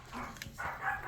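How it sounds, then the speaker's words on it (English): Small happy puppies yapping in short bursts, close by and fairly loud, in a spacious room with exposed wooden beams. "Happy little puppies."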